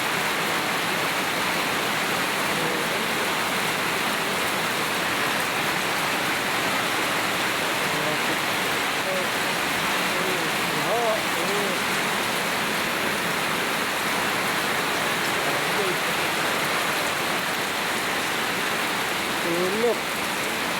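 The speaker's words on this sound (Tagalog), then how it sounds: "Grabe bang ulan ito?" Heavy rain pours down steadily and loudly in a dense, constant wash, with faint voices mixed in beneath the downpour during a storm that floods the street.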